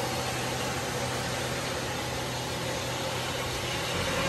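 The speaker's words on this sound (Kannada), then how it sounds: "ನೋಡಿ ಇವಾಗ ಕಟ್ ಮಾಡೋದಕ್ಕೆ ಮಷಿನ್ ಸ್ಟಾರ್ಟ್ ಮಾಡಿದ್ರು. ಲೇಯರ್ ಆಗಿ ಕಟ್ ಮಾಡುತ್ತೆ." A granite-cutting machine at a granite factory runs while slicing stone slabs in layers, a loud, even broadband grinding drone with a steady hum, constant throughout.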